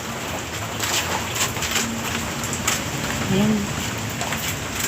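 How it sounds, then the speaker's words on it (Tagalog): Heavy rain from a typhoon pours down in a steady dense hiss on surfaces outside a damaged house, with a voice briefly speaking over it. "Lakas kasi ng ulan."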